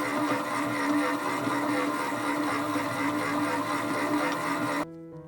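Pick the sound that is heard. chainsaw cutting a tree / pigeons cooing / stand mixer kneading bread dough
stand mixer kneading bread dough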